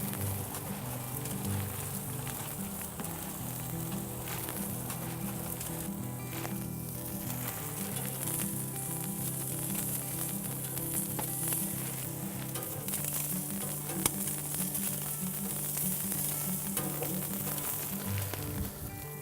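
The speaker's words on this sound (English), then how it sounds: "I like to start my salmon skin side up" Salmon fillet sizzling skin side up on a Kalamazoo outdoor grill, a steady close crackle and hiss that holds through the whole stretch with no talking.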